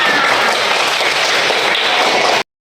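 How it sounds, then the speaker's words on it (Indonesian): Schoolchildren clapping in a classroom, a dense, loud burst of applause that holds steady for a couple of seconds and then stops abruptly. "Tepuk tangan untuk semuanya."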